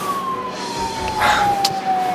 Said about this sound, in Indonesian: Itu ambulans harus lewat.